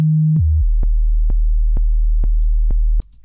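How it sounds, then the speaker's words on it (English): A synthesized big room kick built from an eight-voice sine wave pitched down an octave: a low tone sweeps downward into a steady deep boom, with six sharp, evenly spaced clicks ticking over the sustained bass before it cuts off. "change this to a sine wave, bring in 8 voices, and then just pitch it down an octave until it sounds nice and boomy"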